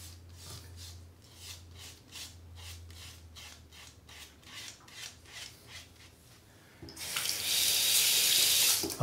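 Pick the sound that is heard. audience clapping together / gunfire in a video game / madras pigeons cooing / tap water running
tap water running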